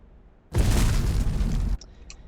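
A grenade blast in the shooter game Black Squad bursts in as a loud, close boom lasting about a second, then cuts off abruptly and leaves faint clicks.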